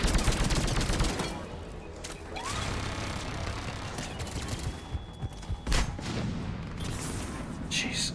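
Turret gunfire in the Mass Effect 3 video game on Insanity difficulty: dense rapid bursts of shots and impacts over a steady combat din, with a sharp loud crack near the middle.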